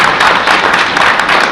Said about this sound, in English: I think we should applaud Ron for all the steady work on